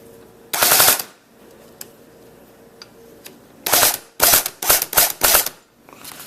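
An AGM M14 airsoft rifle fitted with a new motor fires in full-auto bursts: one burst near the start, then several rapid, loud bursts close together toward the end, with quiet gaps and faint clicks between.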